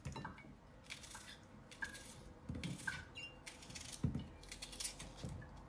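A knife cutting potatoes in half on a board, a series of soft close taps and clicks at irregular intervals, with one sharper knock toward the middle, quiet and without talk.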